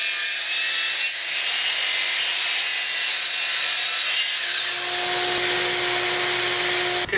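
A power saw cuts treated wood deck boards for a DIY planter box, a loud continuous whining, rasping cut that runs throughout, with a steady motor tone emerging near the end.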